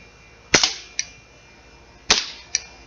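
A Beretta 90two model airgun fires two sharp cracks about a second and a half apart, each followed by a fainter metallic click, close and loud in an otherwise quiet setting.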